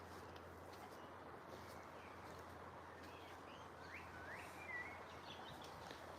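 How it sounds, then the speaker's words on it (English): Songbirds in a botanical garden on Lopud Island chirp and trill faintly through a steady, broadband ambient hiss, with a few brief higher calls rising near the end. "It's nice just to listen to the birds singing."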